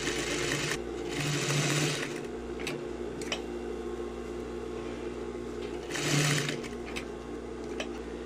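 A sewing machine runs steadily, stitching the seam of a tailored coat sleeve: a continuous close mechanical whir with two louder bursts near the start and later on, plus a few light ticks, no voices.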